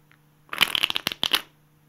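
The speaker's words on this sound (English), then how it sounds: "be able to do an in-the-air riffle shuffle. At full speed, it should look like this." A full-speed in-the-air riffle shuffle of a deck of playing cards: a quick, close burst of rapid flutter and clicks lasting about a second, with no talk.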